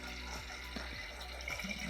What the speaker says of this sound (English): And that's a simple flush.